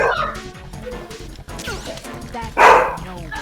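Peanut the dog barks in Metal Gear Solid 2, sharp yips and a louder bark near the end over game music and effects, with a voice talking.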